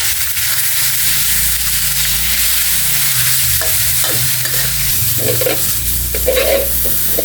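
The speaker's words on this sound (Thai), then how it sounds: "เริ่มหอมก็เนื้อที่เราเตรียมไว้ครับ นำลงมาคั่วครับ" Beef stirred and dry-fried in a hot pan with pounded chillies, a steady close sizzle with scraping and stirring clatter running the whole time, no voices.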